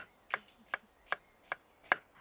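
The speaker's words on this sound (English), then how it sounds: "So I'm gonna cut to this onion actually, and then I'm gonna throw this in as we cook." An onion being chopped with a knife on a cutting board in a home kitchen: five crisp, evenly spaced chops about 0.4 seconds apart, close and clear, with no talking.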